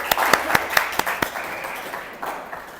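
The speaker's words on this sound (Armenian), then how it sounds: "ծափարենք" Audience applause at a school event: a burst of about six crisp, evenly spaced group claps rings out at the start, then fades into softer scattered clapping and room noise.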